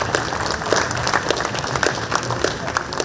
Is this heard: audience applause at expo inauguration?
yes